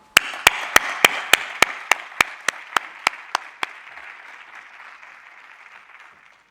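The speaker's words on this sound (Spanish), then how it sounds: "vamos a recibirlos con un fuerte aplauso" An audience at a sports regenerative-medicine conference applauds. Over a soft wash of clapping, about a dozen sharp, evenly spaced claps ring out, then they stop and the remaining applause slowly fades away.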